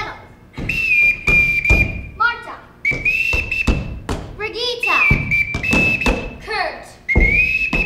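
A bosun's-style whistle blows a series of distinct signal calls to summon children, each a sustained high tone in repeated short patterns, loud and close, interleaved with thumps of footsteps and brief voices.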